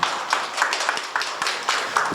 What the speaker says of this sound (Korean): 오늘 우리 여기 이현우 교수님한테 큰 박수를 하는 것으로